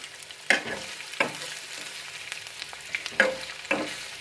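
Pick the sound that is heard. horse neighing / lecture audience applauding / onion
onion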